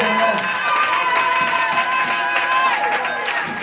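A church congregation cheers and acclaims God during a worship service in Gabon, a steady, loud crowd roar of voices with shouts and some clapping running through the whole stretch.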